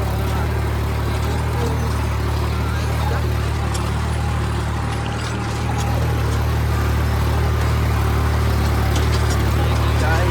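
A New Holland 3630 tractor engine runs steadily at raised revs with a strong low droning hum throughout, loud and close; the tractor is pulling a plough in a field.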